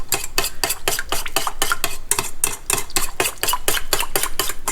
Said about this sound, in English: So you just whisk it until it's sort of a little bit thickened.